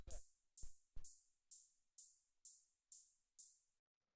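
Short bursts of high-pass filtered white noise with a tight envelope tick out eight evenly spaced quarter-note "tss" hits, crisp and airy, the first few layered with a soft low thump.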